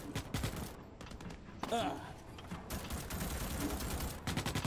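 Rapid automatic gunfire in the Starship Troopers: Extermination video game, dense bursts of shots over a busy battle soundscape with other effects mixed in.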